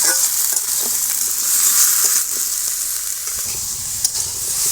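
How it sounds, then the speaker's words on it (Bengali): Malabar spinach is stirred and fried in a wok, with a continuous close sizzle broken by soft scraping stir strokes. "একটু নেড়ে চেড়ে পুঁই শাকটা ভাজা ভাজা করে নেব।"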